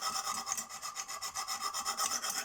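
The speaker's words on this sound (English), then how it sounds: "it's just a simple matter of running the nice and lightly up there to take that burr off" Light, even strokes of a CK Viper knife blade across a Lansky sharpening stone to take off the burr, a steady close rhythmic rasping of about a dozen quick passes with no voices.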